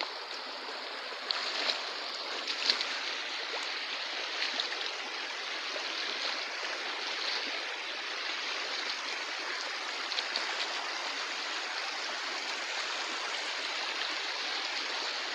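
River water flowing steadily, a continuous broad rushing wash with small splashes, fairly faint and even throughout with no voices.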